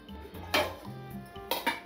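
A kadai pan set down on a kitchen stove, with a few sharp metallic clanks and scrapes of cookware in quick succession, close and fairly loud, and no talking.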